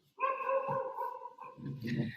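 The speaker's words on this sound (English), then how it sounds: "Which dog? You got dogs at home? No, no, no, no, no. Neighbors' dogs." Neighbours' dogs barking nearby, a sustained harmonic bark or howl followed by a rougher burst, loud and alone without talk.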